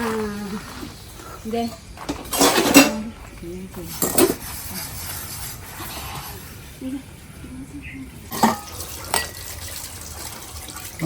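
Steel dishes being washed by hand, with water running and splashing and several sharp metallic clinks and clatters of pots and plates, while a voice speaks faintly at times.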